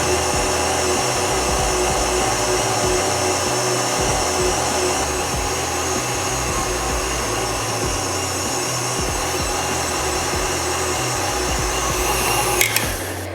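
A stand mixer whips egg whites as sugar is added, giving a loud, steady motor whir with a constant hum that runs unbroken throughout, briefly clinking near the end.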